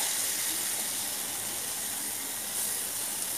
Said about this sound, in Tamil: இப்போ இதை சேர்த்துட்டு நல்லா வந்து வதக்கி விடுங்க